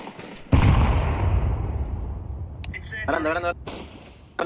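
A grenade is thrown and goes off in a tactical shooter video game, giving a sudden loud burst that rumbles away, with gunfire and voices over team radio continuing behind it.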